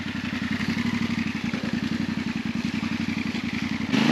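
A Yamaha Ténéré 700 motorcycle engine chugging at low revs in a steady, rapid pulsing rhythm during a U-turn, close and fairly loud, with a brief rise in revs at the very end.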